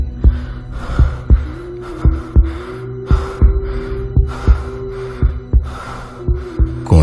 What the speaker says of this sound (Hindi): सिर्फ अश्मित के हांफने की और उसकी तेज धड़कनों की।